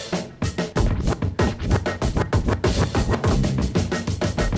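Two dance tracks run with their beats out of sync during DJ beatmatching, dense overlapping kick and percussion hits clashing in a loud, busy flam-like rhythm with no clear single pulse.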